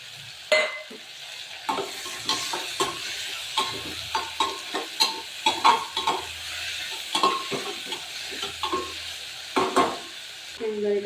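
Tomatoes go into a sizzling pan for Maharashtrian masala rice, followed by repeated close scraping stirs in a quiet, rhythmic series over a soft frying hiss.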